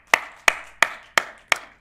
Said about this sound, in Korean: 우리 박수 한번